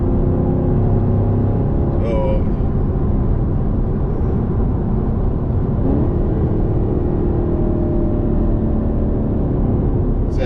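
A Chevrolet Camaro SS cruises on a highway, its steady engine rumble and road roar blended with loud, continuous wind noise rushing through the cabin, unbroken for the whole stretch.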